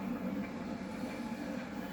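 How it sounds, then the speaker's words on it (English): Rumbling train rolling along desert tracks in the video game Just Cause 4, a steady low drone with faint wheel rattle throughout a short stretch, no voices. "We're taking the train."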